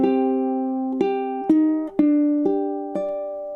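Measure 6 of Sakura in a ukulele chord melody arrangement, seven evenly spaced plucked chords and notes, close and clear, each ringing into the next.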